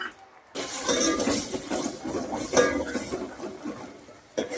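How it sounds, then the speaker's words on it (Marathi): Tomato puree hits hot oil in a pot and is stirred, giving a close, dense sizzle and bubbling broken by scraping from the spoon, with no one talking. "तर आता आपण हे टोमॅटोची प्युरी यामध्ये टाकून त्याला छानसं परतून घेऊया."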